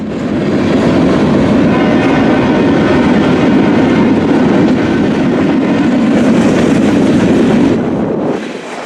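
A long-distance freight manifest train led by ES44AH and GP38-2 locomotives rolls past, a loud, sustained rumble with rhythmic clickety-clack of railcar wheels that holds steady and then eases off near the end.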